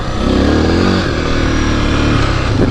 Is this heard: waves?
no